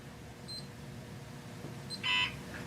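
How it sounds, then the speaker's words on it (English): A few short electronic beeps from a Seaward PV150 solar tester sound over a quiet background, ending with a louder, longer tone near the close. "You can see the 150s now beeping at me."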